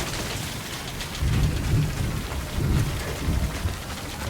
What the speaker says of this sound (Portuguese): Quer dizer, já tá chovendo, né?